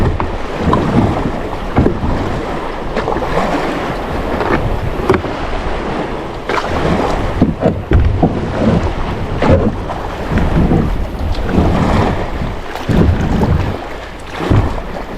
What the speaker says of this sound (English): There's some big waves coming in here